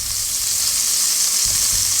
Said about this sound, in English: my pan has heated up very nicely. It's nice and hot. We're going to add in about a tablespoon of olive oil.